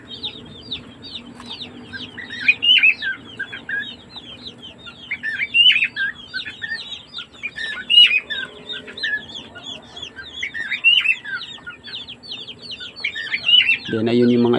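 Rhode Island chicks chirp busily inside an incubator, a continuous flurry of high peeps with louder cheeps now and then, close up, and a brief low voice at the very end.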